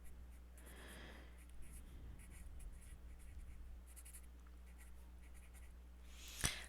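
Pen or marker strokes while a free body diagram is drawn during a physics review session, a faint, steady scratching that runs through the clip before one sharp click near the end.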